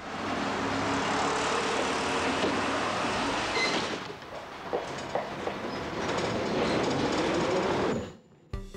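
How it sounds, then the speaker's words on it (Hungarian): Tram line 23 pulls away from Népliget on the newly built single-track section along Könyves Kálmán körút, a loud, close rumble and rattle of wheels and motor that eases midway, then swells again before cutting off. "És el is indulunk a 23-as villamossal a Népligettől, a már új, egyvágányú pályán"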